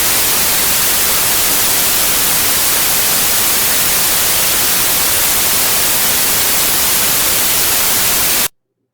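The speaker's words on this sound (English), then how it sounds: "And this is what the noise sample sounds like." Random noise test signal, a dense, steady hiss like radio static, loud and unchanging for about eight seconds before cutting off abruptly into silence.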